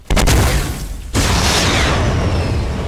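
A rocket launcher blast in a fast arena shooter game: two sharp loud explosions, the first bursting briefly at the start and a second heavier boom about a second later that roars and decays slowly with crackling debris.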